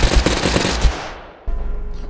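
Rapid automatic machine-gun fire in the video game Totally Accurate Battlegrounds, a dense burst of loud shots for about a second, then a brief lull and a renewed rough, noisy rumble.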